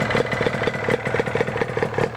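A vintage two-stroke motorcycle, such as a Kawasaki H1, Yamaha RD400 or Honda NS250R, idles close by with a fast, uneven popping and crackling beat over a low engine drone.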